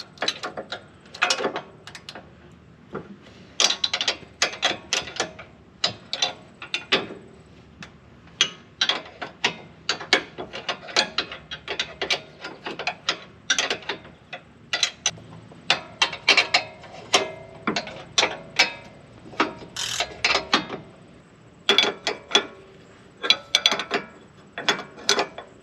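A hand ratchet turns a bolt on the end link of a RockJock rear anti-roll bar on a 2021+ Ford Bronco, giving repeated bursts of close, sharp clicking strokes with short pauses between them.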